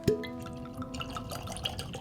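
Penelope bourbon whiskey poured into a glass, a short clink at the start followed by a faint, soft liquid trickle with no voices.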